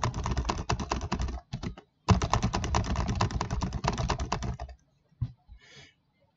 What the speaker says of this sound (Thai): การพิมพ์ในลักษณะนี้เป็นสิ่งที่ไม่ควรทำเป็นอย่างยิ่งนะครับ